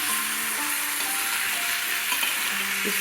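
Sweet corn and tomato curry stirred in a pan, a steady soft sizzle with scraping spoon strokes and light clinks against the pan, close and without speech.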